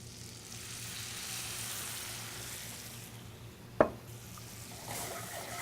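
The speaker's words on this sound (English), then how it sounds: "now we're going to deglaze with some red wine" Red wine poured into a hot pan for deglazing gives a steady, fairly quiet sizzle and hiss, broken once by a sharp clack of a utensil or the pan.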